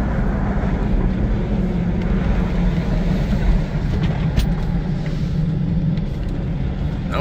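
A lifted Toyota 80 series Land Cruiser taking a street corner hard, a continuous loud engine and tire rumble with heavy low drone, slightly easing toward the end.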